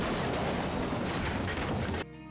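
A video game collapse sound effect: a loud, sustained crumbling crash of collapsing debris, rumbling broadly for about two seconds before cutting off abruptly.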